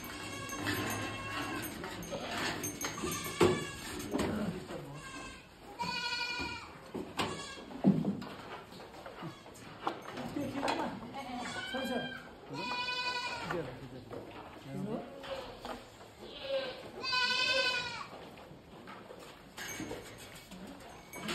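Many goats bleat repeatedly on a stall-fed farm holding about 300 goats in Rolpa Jinabang, Nepal. The wavering cries come from several animals, some near and some farther off, while people talk over them throughout.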